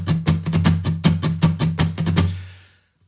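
An acoustic guitar strummed in a steady double-strum pattern, eighth notes split into quick sixteenth pairs, bright close strokes with sustained chord ringing that fades out at the end.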